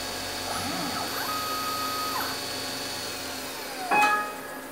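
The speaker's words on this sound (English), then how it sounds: "what the G-code does is drill the center hole and then advance" A CNC machine slowly drills the center hole in a lantern gear, a steady motor whine with gliding pitch changes and a brief louder burst near the end.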